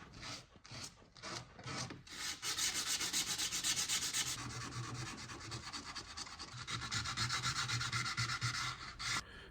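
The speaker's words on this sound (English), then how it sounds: "After the filler has dried," Sanding dried filler by hand on a vintage painted wooden writing desk gives a steady abrasive rubbing, close and fairly loud, opening with a few short separate strokes and then running on in continuous back-and-forth passes.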